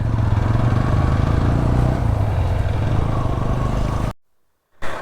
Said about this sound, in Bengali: তিনটা বাইক নিয়ে আমরা যাচ্ছি বান্দরবানের দিকে